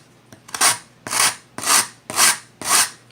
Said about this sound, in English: so I need to do a little more sanding.